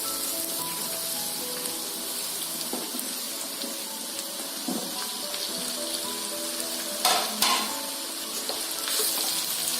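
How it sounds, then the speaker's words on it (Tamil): Mushrooms frying in a pan with sautéed coconut, onion and chilli for mushroom pallipalayam, a steady soft sizzle close by with occasional stirring scrapes and a couple of sharper clatters near the end. "இந்த ஸ்டேஜ்ல நம்ம மஷ்ரூம்ஸை போட்டுடலாம்."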